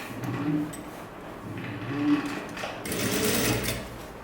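A sewing machine stitching a folded hem on a sleeveless top whirs quietly in short, faint bursts with soft handling sounds between them.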